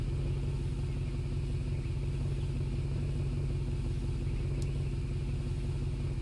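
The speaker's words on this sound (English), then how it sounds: "Definitely a loud truck." A loud truck engine drones at a steady idle in Farming Simulator 2013, a constant low rumble with a rough clattering edge and no talking.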